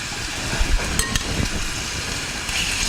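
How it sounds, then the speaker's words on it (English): Pieces of cut-up chicken breast sizzling in a pan, a soft continuous crackling hiss with a few scattered pops and clicks of spooning, close by and moderately quiet. "You hear that sizzle?"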